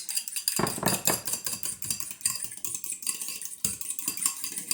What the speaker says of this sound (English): we're going to lightly beat